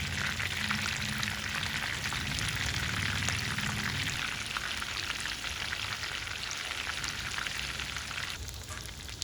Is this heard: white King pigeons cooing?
no